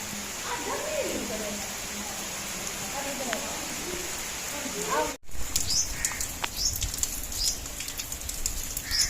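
Steady rain hisses over an outdoor scene during a stormy spell, with birds chirping and calling through it; the patter drops out for an instant near the middle and then resumes with scattered drips and chirps.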